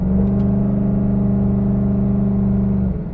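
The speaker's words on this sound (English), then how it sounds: "giving it a little bit of throttle, and the transmission is so direct, and the shifts are nice and firm but not jarring" A 2014 Ford Mustang GT V8 pulling on light throttle along twisty back roads, a steady low engine drone heard from inside the car that holds constant, then drops off near the end as a shift comes.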